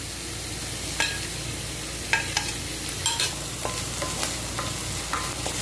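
Green chilies and curry leaves frying with onions and ginger-garlic paste in a pan, with a constant loud sizzle and scattered sharp clicks of a stirring spoon against the pan.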